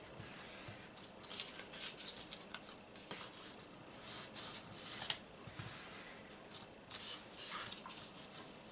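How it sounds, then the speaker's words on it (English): Paper card stock being folded along score lines for a small treat box, with soft rubbing, creasing and brushing sounds in irregular bursts, close and fairly quiet. "So I'm gonna go ahead and fold on my score lines."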